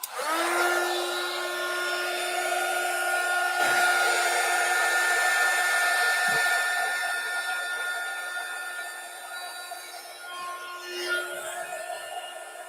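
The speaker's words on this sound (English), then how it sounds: "Heat shrinking." A heat gun runs steadily during heat shrinking, a loud continuous close blowing whine that holds level before easing slightly toward the end.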